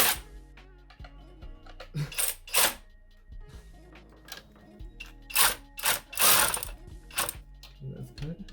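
Bolts on a 2JZ-GE non-VVTi coil bracket are tightened with a hand tool: short ratcheting clicks and metallic clatters come in quick irregular bursts, close up, with quiet pauses between.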